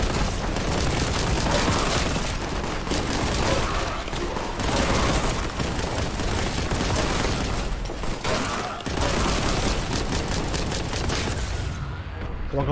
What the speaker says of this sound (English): Grenade in there. Grenade in here. Another grenade over there.